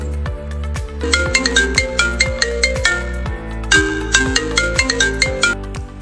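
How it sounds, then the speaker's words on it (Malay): A mobile phone ringtone plays loud and alone, a bright melodic phrase repeating in a steady bouncing rhythm over a thumping bass pattern. "Tiba-tiba, telefon bimbit Zara berbunyi."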